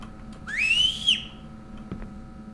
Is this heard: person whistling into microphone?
yes